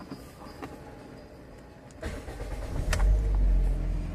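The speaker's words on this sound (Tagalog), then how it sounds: "start ko na nga itong sasakyan mga boss" A car engine cranks and catches after a starter repair that cleared carbon from the starter, a short whir then a rising, steady idle close by, with no talk.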